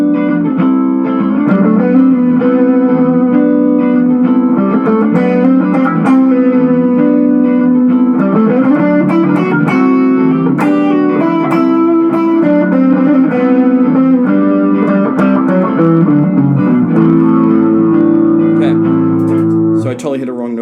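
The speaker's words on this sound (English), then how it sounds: "So I'm going to turn my distortion on." Distorted electric guitar plays a continuous melodic jam line over a song with sustained, gritty notes and occasional pauses, loud and close.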